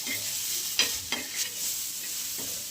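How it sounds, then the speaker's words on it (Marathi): Soybean kofta masala with tomato roasts in a pan, giving a continuous soft sizzle. A few quick stirring scrapes break through it. "मी आता ह्या मसाल्यात भाजून घेणार आहे."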